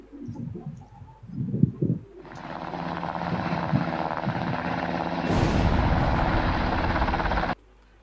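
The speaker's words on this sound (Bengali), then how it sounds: "এখান থেকে আমরা হেলিকপ্টার অ্যাটাকের এই ক্লিপটা নিয়ে আসি উইথ সাউন্ড" Sound from a helicopter attack sequence: a few soft low calls give way to a steady roaring rotor-like drone that swells louder and brighter midway, then stops abruptly near the end.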